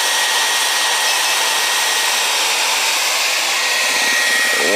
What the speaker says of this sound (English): Hair dryer still running.